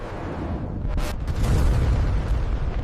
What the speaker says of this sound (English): In 1949, the Soviet Union successfully tested its first atomic bomb